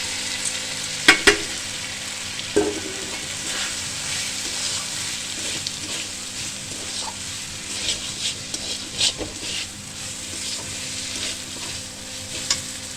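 Pre-fried rice tipped into a pan of spices for khichdi, crackling and sizzling steadily up close while a spoon scrapes and stirs it, with a few sharp clinks near the start and no talking.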